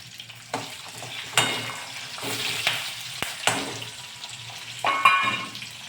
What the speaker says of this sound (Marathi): याच्याबरोबर अजून 2-3 मिरच्या मी चांगल्या भाजून घेतल्या आहेत आणि त्या पण आपण आता तेलामध्ये टाकूया